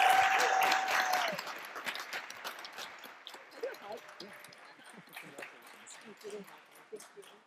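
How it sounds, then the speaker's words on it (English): An audience at a pitch competition applauds the winners, with loud dense clapping at the start that thins into scattered claps, and a voice briefly audible over it. "one more round of applause for all of our finalists, our judges, and everybody"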